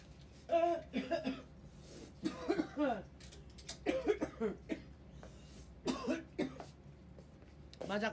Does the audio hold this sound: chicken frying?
no